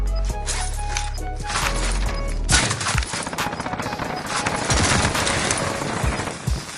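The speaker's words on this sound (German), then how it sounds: "Ich werde hier drüben geschossen." Fast automatic gunfire in Call of Duty Warzone rattles in dense bursts, loud and near, with a low rumble underneath and scattered impacts, and a voice speaks faintly beneath the shooting.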